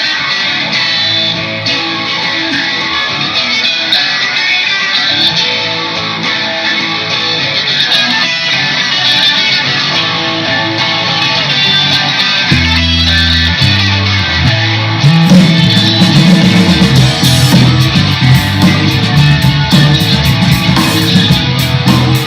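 Music intro track built from a guitar performance, with layered, processed guitar tones running steadily before a louder, denser section with stepped low notes comes in partway through.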